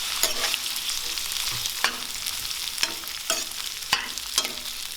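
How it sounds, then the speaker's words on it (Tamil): Carrot and cabbage strips stir-fried over a high flame for vegetable noodles: a steady close sizzle broken by a handful of sharp spatula scrapes and clacks against the pan. "இதெல்லாம் சேர்த்துட்டு ஒரு 2 நிமிஷம் நல்லா ஹை ஃப்ளேமில் வச்சு வதக்கணும்."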